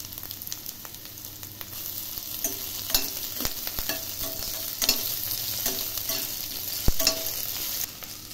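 Onion and ginger garlic paste frying in a pan, a close, steady sizzle punctuated by irregular clicks and scrapes of a stirring spoon, no one speaking.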